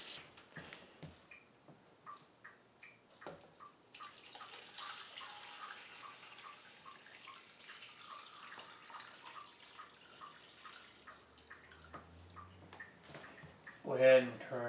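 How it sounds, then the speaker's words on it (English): Tap water runs steadily into a stock pot for turkey stock in a home kitchen, a continuous hiss lasting most of the clip, with light clinks and a louder knock at the end. "Now I'm filling it with water."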